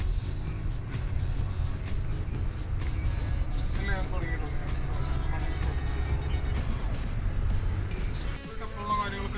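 A Maruti Grand Vitara is driven, its engine and road noise forming a steady low rumble inside the cabin, with people talking over it.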